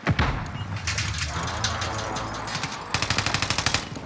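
Rapid bursts of Grav SMG gunfire ring out in a Call of Duty multiplayer match: close, loud automatic fire, then a tight rattling burst near the end.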